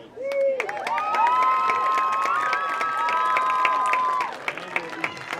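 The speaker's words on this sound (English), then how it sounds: "please give a big round of applause" A stadium crowd at a college football game applauds and cheers for a marching band taking the field, with steady distant clapping and shouts under a sustained tone that sounds like band or PA music, fading toward the end.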